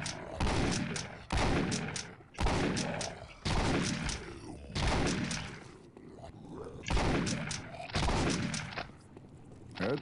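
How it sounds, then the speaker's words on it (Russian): Gunfire in the video game Postal 2: Paradise Lost, sounding as a string of loud, close bursts that repeat steadily with short gaps between them, mixed with a voice speaking. "А кто в меня стреляет?"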